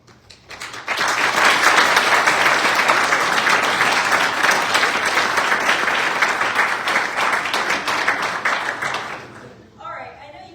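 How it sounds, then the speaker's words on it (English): An audience at a student pitch competition breaks into loud, sustained applause that holds steady for several seconds before fading out, with talking faintly beneath it. "I know you guys were just clapping"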